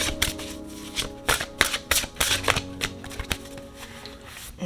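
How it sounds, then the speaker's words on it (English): Close, brisk riffling and snapping of a deck of cards being shuffled repeatedly, irregular bursts over a faint background hum. "So let's go ahead and shuffle."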